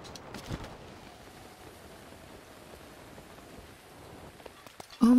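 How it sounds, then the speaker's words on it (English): Rain falls steadily in the video game The Legend of Zelda: Breath of the Wild, a soft, even hiss of raindrops, fairly faint, ending with a brief louder tonal game sound, with no talk. "It's raining a lot."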